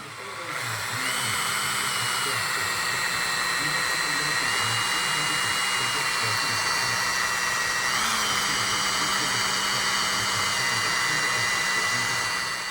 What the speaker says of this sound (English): Dead handy having the little blast cabinet. Does for the little bits and pieces.